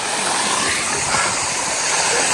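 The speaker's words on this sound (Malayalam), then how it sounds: "ഇതാണ് കേട്ടോ നമ്മുടെ വെള്ളച്ചാട്ടം" A small forest waterfall in Kerala makes a steady, loud rush of falling water, an unbroken hissing wash heard close by with no pauses.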